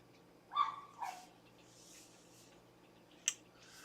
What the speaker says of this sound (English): stupid dog downstairs barking at everything that moves